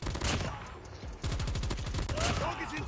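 Gunfire in the mobile shooter Call of Duty Mobile from an S36 light machine gun, rapid automatic bursts rattling loudly and close, with a short gap in between, layered over game sounds.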